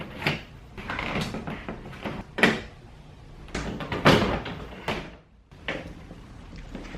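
Interior door panel being pried off a Nissan 240SX: a series of sharp plastic clip pops and clunks at irregular intervals, close and fairly loud, with rustling handling noise between them.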